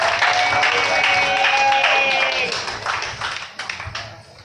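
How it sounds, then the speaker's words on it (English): At a comedy show, an audience gives a round of applause, a dense, steady wash of clapping mixed with crowd voices that thins out toward the end. "So give y'all a round of applause on Valentine's Day."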